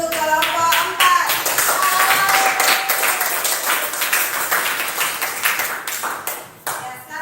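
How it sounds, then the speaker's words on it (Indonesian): A classroom audience claps for a student group in a religious studies lesson, a few seconds of close, dense clapping with some voices mixed in before it thins out. "Beri aplaus dulu untuk kelompok 4."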